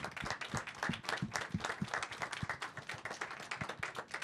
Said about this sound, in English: A round of applause to Aaron Judge.